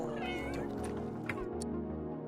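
A cat meows in The Sims 3, a few short mewing calls over a steady layer of game music and background ambience, moderately loud and fairly close.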